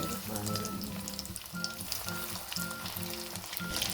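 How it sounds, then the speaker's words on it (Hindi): Breadcrumb-coated rolls lowered gently into hot oil, giving a close, steady bubbling sizzle with soft irregular pops throughout, no voices. "अब आहिस्ता आहिस्ता इनको ऑयल में डालते हैं।"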